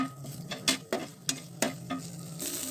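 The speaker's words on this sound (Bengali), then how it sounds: "দেখুন দর্শক এটা ভালো মতো ভাজা হয়ে গেছে" Shidol (fermented fish) paste being stirred and fried in a pan over medium-low heat, close and quiet: a soft sizzle under a series of sharp scraping stirs, about seven distinct strokes at an uneven pace.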